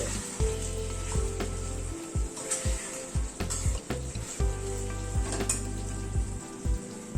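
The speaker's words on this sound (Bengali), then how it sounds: "ঘি আর গরম মশলাটা মিশিয়ে দিচ্ছি।" Ghee and garam masala are stirred through a hot pan of pointed gourd curry, with a steady close sizzle and frying crackle running throughout and repeated spatula scrapes against the pan; no talking.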